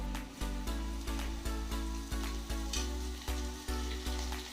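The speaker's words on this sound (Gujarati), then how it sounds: "હવે એમાં આપણે બનાવેલી લસણ અને આદુની પેસ્ટ નાખીશું." Garlic and ginger paste sizzling in a pan with asafoetida and salt, cooking for bhungara bateta. A loud, close hiss swells in steady repeated pulses, with a low rumble underneath and no voices.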